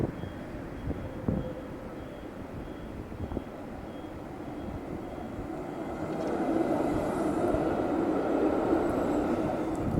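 A tram rolls past at an outdoor event. A broad, low rumble holds steady under faint background noise, then swells louder and fuller through the second half as the tram draws closer.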